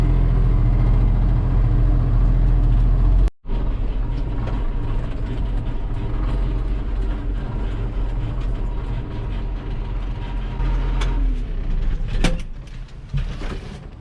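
A heavy tractor engine rumbles continuously and close, with a brief dropout early and some clanks and rattles later on.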